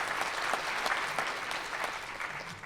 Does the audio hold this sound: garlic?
no